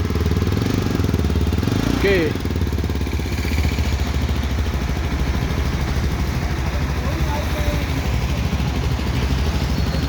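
A Jawa Yezdi adventure motorcycle fitted with fog lights runs close by with a steady, loud, rapid engine throb that holds throughout, with a brief voice partway through.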